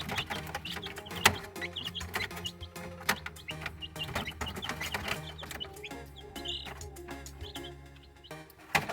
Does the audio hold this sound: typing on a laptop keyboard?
no